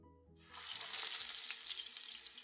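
Fish pieces coated in spice paste drop into hot oil and burst into a loud, steady sizzle after a short silent start, crackling continuously close by with no voices.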